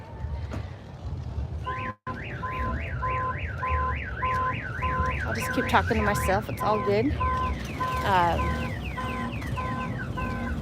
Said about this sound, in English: I got a car alarm going off, so I apologize for that very annoying sound.